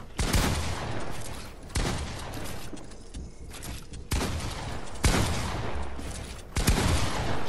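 Repeated bursts of gunfire in Fortnite shooting at an opponent's builds, loud and dense volleys arriving in several surges with brief lulls between them, no talk.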